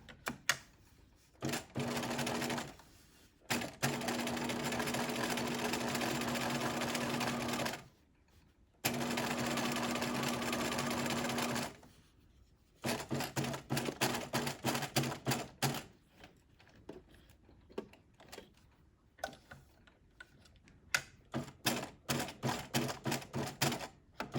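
A sewing machine stitches a welt pocket in bursts of rapid mechanical whirring, with pauses between runs and a choppier stretch of short stitches and clicks toward the end.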